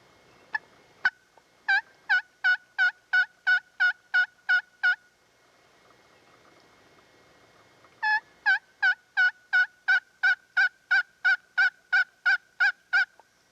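Rhythmic turkey yelping from a pumper-style call imitating a hen during a spring turkey hunt, two clear runs of about ten evenly spaced, fairly loud notes separated by a quiet gap, with no voices.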